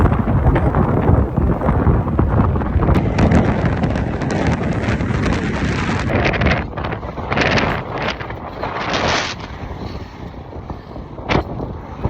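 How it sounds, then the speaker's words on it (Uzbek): Strong wind in Wyoming buffets the microphone with loud, continuous roaring rumble, easing slightly in the second half into gusty bursts and hiss; no speech. "Vayomingda shunaqa shamol, shlyapa ham uchib ketdi."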